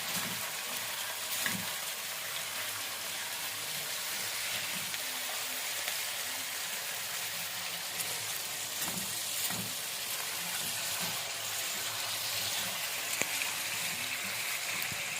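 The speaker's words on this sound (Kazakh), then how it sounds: "Сарымсақпен кішкене қуырып аламыз майға." Garlic fries in oil in a kazan, giving a continuous, even sizzle with soft crackles. It stays at a fairly quiet, close level with no voices.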